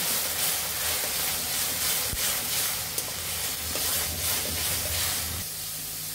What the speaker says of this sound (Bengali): এভাবে ডিমটা ভেজে দিব।